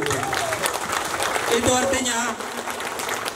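An audience at a political declaration event for regency election candidates applauds, a dense wash of clapping that fills the clip and fades slightly at the end, with a voice speaking over it.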